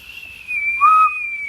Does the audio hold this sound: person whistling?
yes